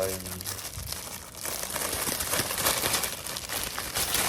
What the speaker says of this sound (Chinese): 我们现在来开第二片喽，把它撕开